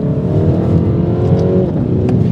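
Mini Cooper S with a B48 turbo engine pulling hard, a loud steady engine drone rising in pitch from inside the car, with a slight shift partway through and no talk over it.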